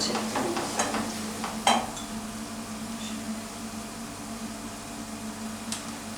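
Onions sauté in a pan with a steady, close sizzle, and a few light scraping stir strokes come through early on.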